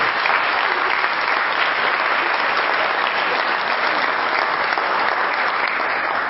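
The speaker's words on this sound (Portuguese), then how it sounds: "Pode aplaudir." A church congregation applauds after a sermon, a dense, steady burst of clapping from many hands that holds loud and even for several seconds.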